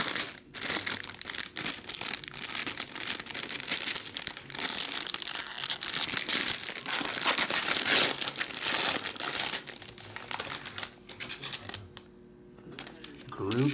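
A Pokémon jumbo card pack wrapper being torn open and crumpled, a dense, continuous crinkling and crackling of plastic foil close up that runs for several seconds before thinning out near the end.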